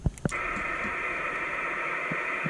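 A 2-meter single-sideband radio signal slightly off frequency from a Yaesu 897-type transceiver at a hilltop rest area, heard as a steady hissy, buzzing tone over static with a few faint clicks at the start.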